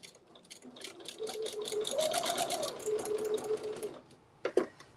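A home sewing machine stitches a quilt in one continuous run of rapid, even chattering for about three seconds, fairly close, followed by a couple of soft knocks and no talk.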